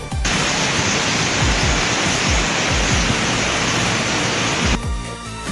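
A loud, continuous roar of rushing water from the Khone Phapheng Falls in Champasak, southern Laos, broad and steady, filling the whole scene.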